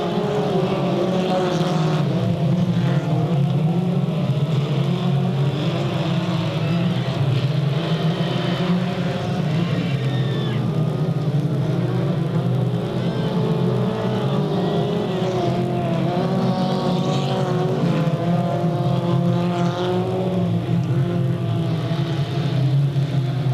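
Race cars roar around Delta Speedway right after the green flag at a 1998 race, a dense continuous engine drone with passing cars rising and falling in pitch, heard at a steady loud level.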